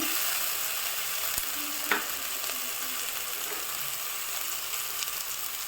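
Ginger, garlic and green chillies fry in a pan, a continuous even sizzle up close with only a couple of faint utensil ticks.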